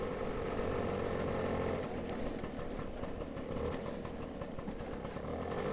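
Small two-stroke engine of a 1962 Lambretta Li 150 Series 3 scooter, ridden along a tree-covered country lane, drones steadily and continuously up close, with a faint rattle and mild rise and fall in pitch.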